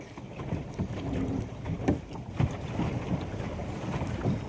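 A small boat moving on water, with a low churning rumble of hull and water and gusts of wind buffeting the microphone, steady and close throughout.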